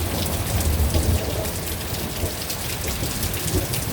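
A massive lightning storm pounds a home and patio with heavy rain, steady close hiss of drops on surfaces and deep thunder rumbling low beneath, loud and continuous with no voices.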